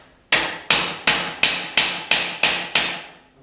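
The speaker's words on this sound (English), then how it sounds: "right now I'm going to hammer in a whole bunch of these" Eight evenly spaced hammer blows driving garden stakes for a tomato clothesline, sharp, loud strikes each ringing briefly before the next, in a steady rhythm with no talking.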